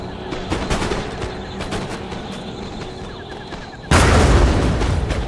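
A line of troops fires a volley in Empire: Total War, with scattered sharp musket cracks and thuds followed by a sudden loud burst of gunfire and booms that continues to the end.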